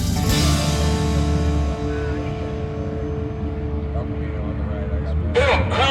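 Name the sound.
car groaning its way down drag strip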